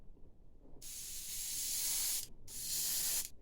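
An airbrush sprays thinned Rebel Aqua paint onto a model ship's mast, giving two close, steady bursts of airy hiss, the first about one and a half seconds long, a short gap, then a second burst of about one second.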